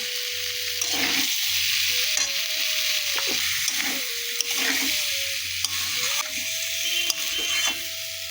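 Potatoes, pointed gourd and prawns sautéing in a pan, a steady sizzle broken by repeated scraping and stirring strokes of a spatula, close and fairly loud with no talking.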